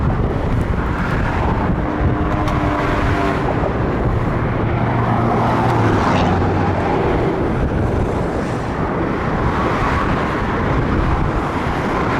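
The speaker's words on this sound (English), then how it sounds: "Traffic here, you can see this." Busy multi-lane I-10 highway traffic in Phoenix at sunset makes a continuous loud roar of passing vehicles, with wind buffeting the microphone throughout.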